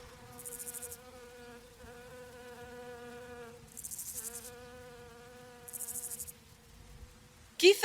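A small fly buzzes steadily nearby in a thin, droning whine, with a few louder bursts when it passes close, ending in a sudden sharp flutter.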